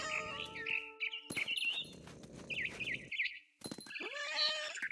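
Cat meows and frightened bird chirps alternate in the video game What Remains of Edith Finch, high bright calls in short bursts with a stretch of soft rustling between them, close and clear without talk.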